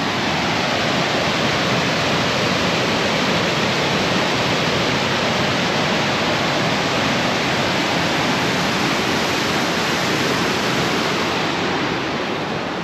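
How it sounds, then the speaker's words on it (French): The morning waterfall at Pont d'Espagne near Cauterets roars as a constant broadband rush, loud and unbroken throughout, with no voices over it. "La cascade de ce matin"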